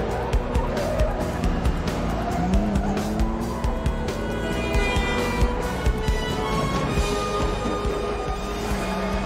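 Car tires squeal and skid under hard braking in a 1998 action film scene, with engine roar and a dense mix of vehicle noise running loud throughout.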